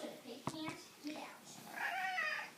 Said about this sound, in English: Are you a good kitty, Jasper?